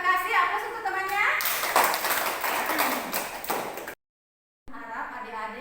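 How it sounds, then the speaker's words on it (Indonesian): A classroom of students claps for a classmate, a burst of applause rising over a voice and then breaking off, with children's talk heard before and after. "Aplaus untuk temannya."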